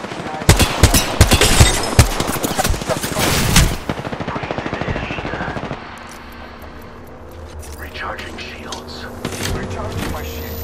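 Loud, rapid automatic gunfire in Apex Legends rattles in dense bursts for several seconds, then thins to scattered shots and distant fire, with brief voice lines in between.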